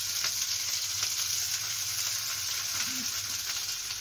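Beans fry in hot oil in a kadai, giving a constant, even crackling sizzle with faint stirring taps. No one speaks.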